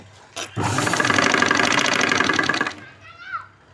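An electric sewing machine runs a continuous stitching burst of about two seconds on a boat neck blouse, a steady close whirring rattle that stops abruptly, with a short thump before it and faint rustling after.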